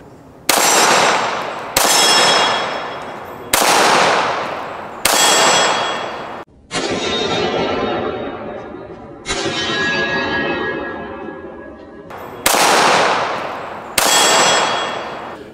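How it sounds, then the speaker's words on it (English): A TISAS Raider 1911 pistol, an M45A1 clone, fires at steel targets about ten yards away: eight loud shots at an uneven pace, each followed by a bright metallic clang ringing out. No talking. "we're about 10 yards away, but we've got some steel targets over there. We're gonna hit those."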